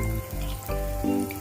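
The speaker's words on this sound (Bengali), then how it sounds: "এই যে জলটা এখানে আমি অ্যাড করছি" Water poured into a hot pan of fish curry, a soft sizzling splash with a low bubbling hiss over a brief moment.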